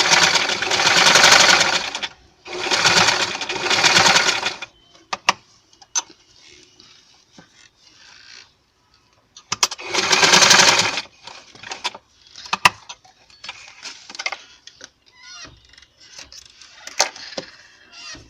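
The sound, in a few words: sewing machine sewing frock piping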